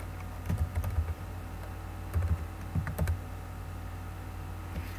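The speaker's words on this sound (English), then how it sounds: "we're going to type in breeds" Typing on a computer keyboard while entering data into a Microsoft Access 2013 query, with short bursts of close, crisp key clicks separated by brief pauses and no talking.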